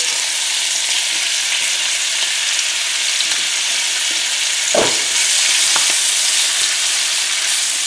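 Beef sears in butter and a little oil in a hot pan, producing a loud, continuous bright sizzle with one sharp clatter midway and a fainter knock after.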